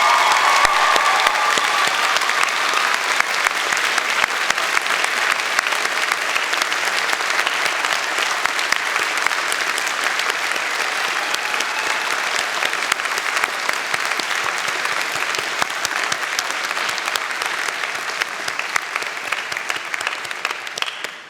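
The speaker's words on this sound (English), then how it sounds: "a round of applause" Sustained, dense applause from a large audience at a spring university graduation convocation ceremony, steady and loud for about twenty seconds with faint cheering mixed in, then tapering at the very end.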